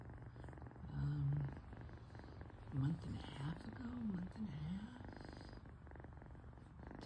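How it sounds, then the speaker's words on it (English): A sleepy young kitten purrs softly and steadily up close, a low continuous rumble running beneath a person talking quietly nearby. "A little kitten, a little sleepy, purring kitten."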